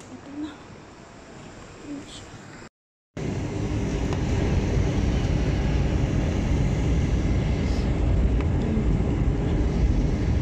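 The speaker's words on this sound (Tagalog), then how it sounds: "Yung aeroplano. Ayun, papunta na." An airplane takes off, a broad loud roar that swells after a brief cut and holds steady, heard from inside with faint sounds underneath.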